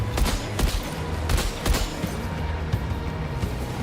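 Repeated bursts of rubber-bullet gunfire in Death Stranding 2, sharp cracks in quick clusters over a steady rumbling background, loud and close, thinning toward the end.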